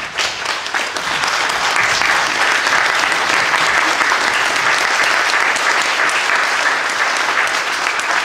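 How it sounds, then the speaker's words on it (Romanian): An audience gives the guest speaker sustained applause at a lecture, a dense, steady wash of clapping filling the room for several seconds without pause. "aplauze pentru invitatul nostru și pentru dumneavoastră"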